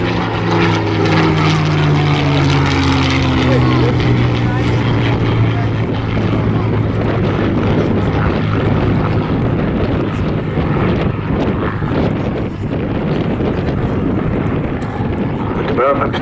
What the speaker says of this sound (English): You just can't get enough of a Spitfire.